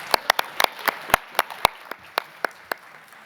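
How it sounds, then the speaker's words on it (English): A congress audience clapping together in a hall: a few loud, sharp, separate claps at an uneven rhythm, close and clear over a quiet room, with no voices. "give a clap hand, please"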